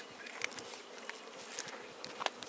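Honey bees fly around their hives at a spring apiary, making a steady, fairly faint buzzing hum with occasional closer individual bees passing by. No one speaks.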